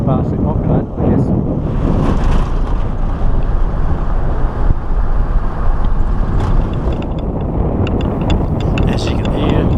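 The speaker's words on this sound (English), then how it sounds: "As you can hear, it's bloody windy." Strong wind buffets the microphone in a sparsely populated Namibian desert beside a road, a steady loud roar and rumble throughout with a speaking voice partly under it.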